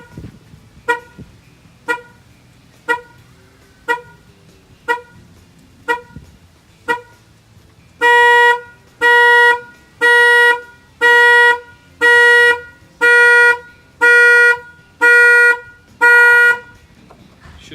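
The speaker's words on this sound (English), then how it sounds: "It'll fire off the alarm." A factory car alarm on a Camaro goes off nearby, first as a string of short single chirps about once per second, then switching to louder, longer repeated horn-like honks in a steady rhythm.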